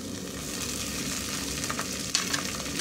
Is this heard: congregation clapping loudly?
no